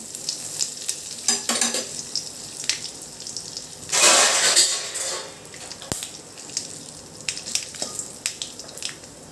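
Asafoetida, pinched dried red chillies and curry leaves sizzle in hot oil for a rasam tempering, with a steady fry hiss and scraping stirs, and a louder burst of sizzling midway.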